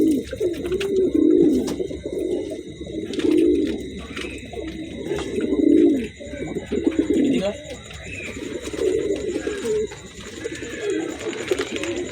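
A male pigeon coos repeatedly in deep, rolling phrases close by, near its mate, with soft chirps and a voice speaking over parts of it.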